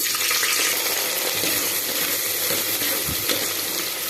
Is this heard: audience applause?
no